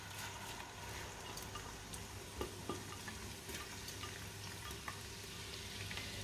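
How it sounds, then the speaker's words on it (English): Onions frying in preheated hot oil for a beef stew, a constant crackling sizzle with scattered sharper pops and a low steady hum beneath, fairly quiet and close. "we preheat the oil and then the onions"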